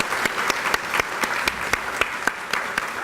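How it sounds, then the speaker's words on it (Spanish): Applause from an audience at a formal anniversary session honouring professionals, a sustained crowd clapping with a few sharper individual claps cutting through at regular intervals. "creo que se merecen un fuerte aplauso para ustedes"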